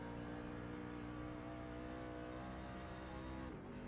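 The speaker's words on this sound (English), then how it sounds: "You hear him drop the gear down to third" Race truck engine in the iRacing sim at WWT Raceway, droning steadily with a loud, dense harmonic roar before a brief dip and pitch shift near the end as the gear drops to third.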